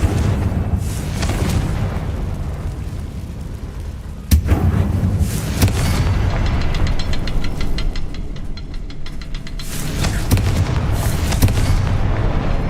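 Confringo fire-blast spell exploding in Hogwarts Legacy, a loud sharp boom followed by a rumbling roar and crackle over a dense, continuous game soundscape.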